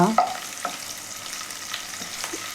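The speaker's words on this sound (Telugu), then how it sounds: "ఉల్లిపాయ ముక్కల్ని వేస్తున్నానండి." Onion pieces frying in oil for cashew upma, a soft sizzle underneath a few brief stirring scrapes and clinks near the start, fairly faint and without talk.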